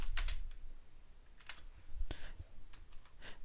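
Scattered clicks of computer keys come in short bursts with pauses between, nearby and soft, with no talking.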